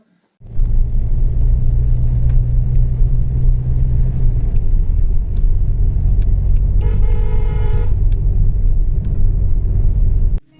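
A car drives along the road with a loud, steady engine and road rumble from inside the vehicle, and a horn sounds briefly partway through.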